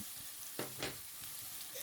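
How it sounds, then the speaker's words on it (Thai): Oil crackles and sizzles steadily as pounded chili and garlic fry in a pan, with a couple of brief stirring scrapes, close and quiet, no voices. "ตั้งกระทะครับ น้ำมันเล็กน้อย แล้วก็พริกกระเทียมตำโขกลงไปเลยครับ ผัดให้เหลืองหอมเลยครับ"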